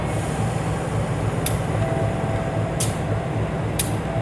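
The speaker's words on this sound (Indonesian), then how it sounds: "Mutiara Timur berangkat dari stasiun Probolinggo" Mutiara Timur train departing Probolinggo station, a steady low rumble of the train with a faint electronic tone, broken by three short hissing bursts of air at even intervals.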